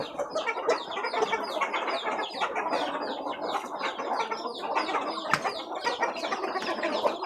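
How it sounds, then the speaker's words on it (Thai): A flock of chickens clucking steadily at morning feeding, many overlapping close clucks and chatters filling the whole stretch, with one sharp knock partway through. "ให้อาหารไก่ นะครับตอนเช้า"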